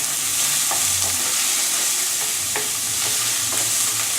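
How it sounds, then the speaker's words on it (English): Whole chopped onions fry in a pan while being stirred, a loud, constant sizzle with faint scraping taps from the spoon scattered through it. "then we're gonna add our whole chopped onions. So give that a stir."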